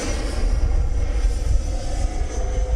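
Horizon Hobby RC jet roaring steadily overhead during a go-around, a continuous loud engine whoosh with no talking.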